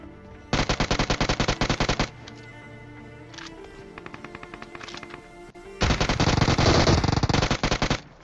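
A UMP submachine gun fires in PUBG Mobile in two long, loud bursts of rapid automatic shots, separated by a few seconds of quieter in-game sounds.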